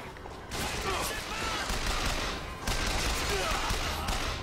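Gunfire rattles in Bioshock Infinite as rapid shots burst in two long volleys, loud and dense, with a brief quiet opening before them.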